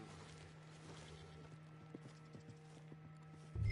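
Horse hooves clip-clop in Red Dead Redemption 2, a steady close walking rhythm of hollow thuds over a low hum, ending in a sudden louder burst.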